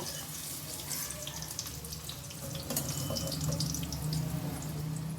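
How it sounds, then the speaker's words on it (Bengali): Paneer pieces dropped into a bowl of hot water in a home kitchen make a steady close splashing, water-running wash, a little louder in the second half, with no talk. "এখন আমি এখানে একটা বাটিতে গরম জল নিয়ে নিয়েছি, এই গরম জলের মধ্যে পনিরগুলো দিয়ে দেব।"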